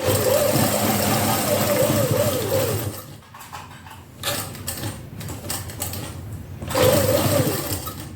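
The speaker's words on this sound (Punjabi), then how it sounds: "ਇੱਥੇ ਅਸੀਂ ਡਬਲ ਸਲਾਈ ਕਰਦੇ ਹਾਂ ਤੁਸੀਂ ਵੀ ਡਬਲ ਕਰਿਆ ਕਰੋ ਮੋਢਿਆਂ ਦੀਆਂ ਸਲਾਈਆਂ ਹਮੇਸ਼ਾ ਡਬਲ ਕਰਨੀਆਂ ਚਾਹੀਦੀਆਂ ਆ" Domestic sewing machine double-stitching the shoulder seam of a kameez, a fast steady whirring run that stops briefly for light handling noises, then starts again at full speed.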